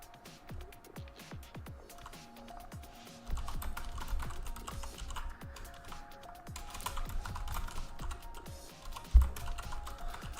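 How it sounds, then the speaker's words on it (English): Typing on a computer keyboard reached around a microphone, with rapid irregular key clicks and clacks, close and fairly loud throughout, over a low background hum that rises partway through. "I have to reach around to use the keyboard. That's why my typing is pretty shocking."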